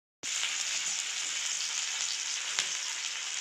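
Chopped onions dropped into a hot pan for a pork and vegetable mustard dish, an instant loud sizzle that holds steady and bright with faint stirring scrapes, no voices.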